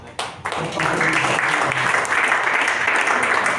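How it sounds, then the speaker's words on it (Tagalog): Church congregation applauding during a sermon: a few scattered claps swell quickly into full, steady applause from the crowd, loud and sustained to the end. "deserve po ng Panginoon yung ating palakpak"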